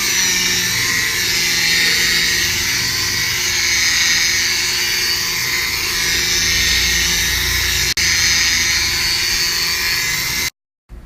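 A car headlight being sanded with 3000 grit sandpaper for restoration, producing a loud, steady, high-pitched whirring grind close up that runs unbroken, dips once briefly and stops abruptly near the end.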